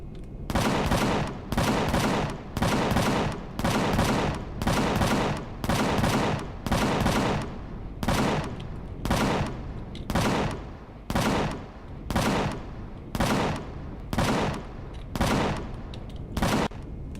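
Base defences in the Empyrion game open fire on the player's ship in long, loud bursts of rapid gunfire, each lasting about a second, repeating steadily with short gaps between volleys.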